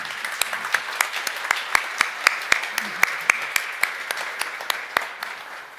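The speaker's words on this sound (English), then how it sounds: "I would ask for a warm round of applause to our panelists" Sparse applause for conference panelists at a wind-energy event. Separate, distinct claps ring out in an uneven rhythm over a soft wash of quieter clapping, with faint voices underneath.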